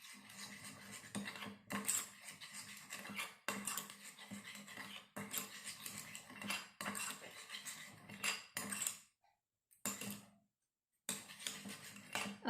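Slime is stirred in a bowl with sparkles mixed in, making repeated rhythmic scraping and squelching strokes in bursts of about a second. There is a short pause partway through.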